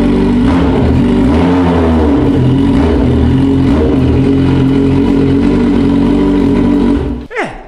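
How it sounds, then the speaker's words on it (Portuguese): A Yamaha XJ motorcycle engine rumbles loud and close, held at a steady high rev for several seconds before cutting off abruptly at the end. "você tem medo do barulho da XJ?"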